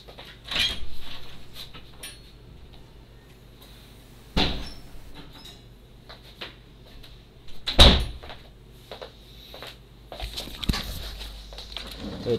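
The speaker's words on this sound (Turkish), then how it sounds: "Şu ben kapıyı kapatayım da geleyim." A door being shut indoors: a few sharp thuds and knocks, the loudest near the middle, spaced apart over a quiet background hum.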